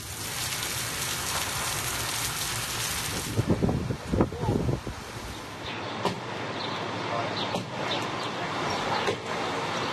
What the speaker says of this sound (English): The powerful storm that hit the GTA this afternoon didn't last very long